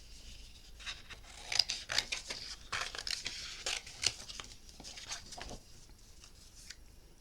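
Scissors snipping out a paper flower for a handmade mini album, a close series of quiet crisp cuts and paper crinkles with irregular rhythm and no talk.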